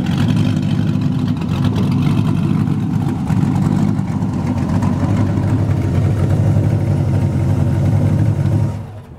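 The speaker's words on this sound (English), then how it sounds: "the motor settles down to a nice, crispy idle" A 2014 Boss Hoss trike with an LS 6.2 liter V8 runs at a steady, loud, deep idle close by, cutting off just before the end.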